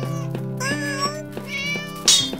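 Several cats meow in a game scene from Jrago The Demon Hunter, high drawn-out cries overlapping in quick succession over a steady low musical drone, with one brighter, sharper meow near the end.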